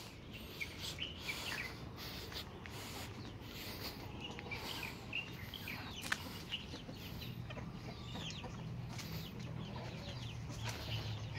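Chickens clucking on a small farm where a stray dog attacked the flock, a steady murmur of calls and short cackles near and far over a constant outdoor background, with no one talking.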